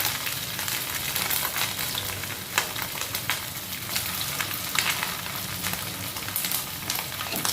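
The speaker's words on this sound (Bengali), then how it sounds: "এক কড়াইয়ে ভাজা হয়ে গেছে" Flour-coated pieces crackle and sizzle steadily in hot oil in a wok, a dense, continuous frying hiss with scattered sharper pops throughout.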